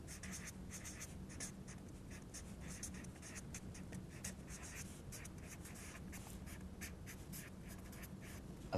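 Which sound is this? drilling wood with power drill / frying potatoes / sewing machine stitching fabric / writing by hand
writing by hand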